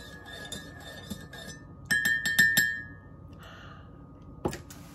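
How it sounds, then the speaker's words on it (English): A spoon stirs coffee with milk in a mug, giving a few quick bright clinks against the ceramic, a faster cluster of taps, then one last clink, close and fairly quiet with no talking. "Let me get my spoon here. Let me give this a stir."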